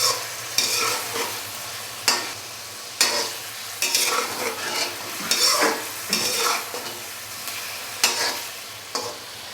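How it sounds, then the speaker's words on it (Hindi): Chicken pieces frying in a karahi with salt and garlic paste, stirred in repeated scraping strokes over a steady sizzle, close and fairly loud, with occasional metal pan clinks. "नमक और लहसुन का पेस्ट डालने के बाद अच्छे से हम इसको करेंगे मिक्स और हल्का सा इसको मज़ीद फ्राई करेंगे"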